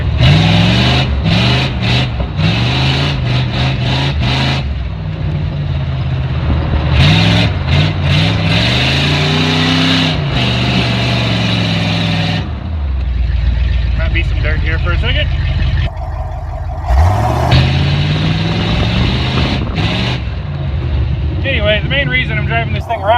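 Jeep Wrangler YJ with a Ramjet 350 V8 engine running while being driven, a loud continuous drone with rising and falling revs throughout.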